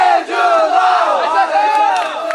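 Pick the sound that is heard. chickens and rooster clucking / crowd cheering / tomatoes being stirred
crowd cheering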